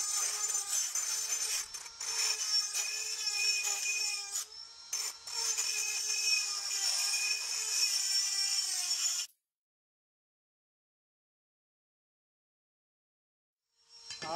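A Dremel rotary tool cutting glue out of a Bridgeport bushing whines at a high pitch up close for about nine seconds with brief dips in load, then stops and silence follows.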